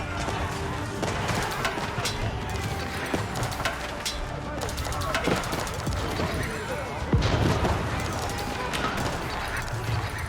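Musofadi gunners fire volleys in a large Age of Empires 4 battle, with crackling gunshots mixed into steady clatter of horse hooves and melee, while a commentator talks over it throughout.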